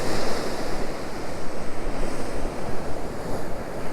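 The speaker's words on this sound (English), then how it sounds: "Wind swirling around now, heaps." Wind swirling at a coastal fishing spot, a steady loud broadband rush with waves washing underneath, continuous and close to the microphone, with no voices.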